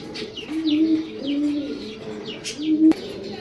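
A pair of big-sized pet pigeons cooing in low, repeated rolling coos, close by, with light chirps and a brief sharp knock near the end.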